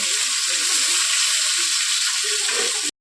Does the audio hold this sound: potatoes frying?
yes